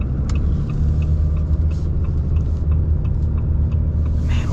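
A 2026 Ram AEV Prospector XL pickup on 40-inch tires rumbles steadily at speed, a deep continuous drone with road noise and no voices.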